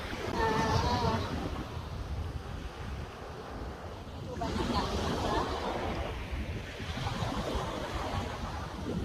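Surf rolling onto a shore, steady and washing, with gusty wind buffeting the microphone throughout.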